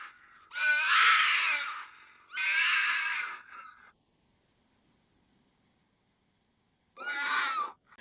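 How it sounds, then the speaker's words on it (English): A fox screaming: two long, loud, harsh shrieks close together, a pause of silence, then a third scream, each raspy and piercing like a woman's terrified cry. "Foxes scream as if a woman is getting murdered."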